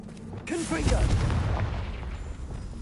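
Fiery blast of the Confringo spell in Hogwarts Legacy, a brief whoosh building into a deep booming rumble that swells and gradually dies away, with some mechanical rattling underneath.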